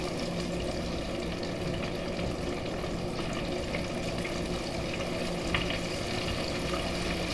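Cod fillets deep frying in oil, a dense, even bubbling roar that holds steady throughout with a faint tick near the end.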